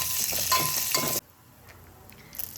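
Cumin seeds and curry leaves sizzle loudly in hot oil in a pan with mustard seeds, a dense crackling hiss for over a second that cuts off abruptly into quiet with a few faint clicks.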